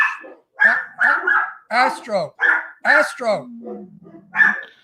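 A string of short, close barks and yelping whines in quick bursts, ending in a drawn-out whimper; it sounds like a voice imitating a dog.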